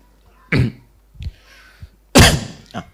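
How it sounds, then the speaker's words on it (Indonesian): Two sharp coughs from a person during a religious lecture, the second louder and harsher, with softer throat sounds and small knocks between them in an otherwise quiet room. "Itu batuk."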